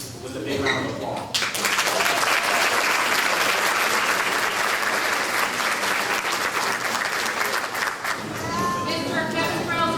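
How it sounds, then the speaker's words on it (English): Loud, sustained applause from an audience at a learning center graduation ceremony, honouring the staff, with dense clapping filling most of the stretch before a voice briefly comes in near the end. "I would like to recognize them with a big round of applause"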